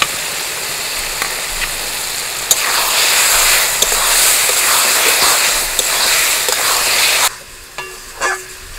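Spiced masala and potatoes frying in a pan for latha fish curry, a steady crackling sizzle with occasional stirring clicks that drops off sharply near the end, leaving quieter scattered ticks.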